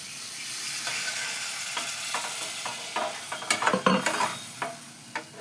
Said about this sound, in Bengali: এবার এতে আমি জল দিয়ে দিচ্ছি